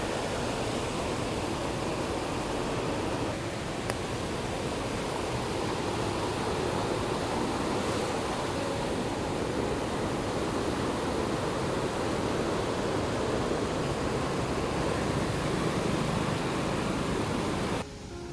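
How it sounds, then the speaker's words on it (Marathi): Monsoon rain falling at a river in Konkan, a steady, dense wash of hiss and rushing water that stays even and loud throughout, with no voices. "पाऊस पण सुरुवात झाली यायला"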